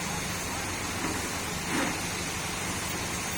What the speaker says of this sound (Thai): โอ้ยฝนมาแล้วครับ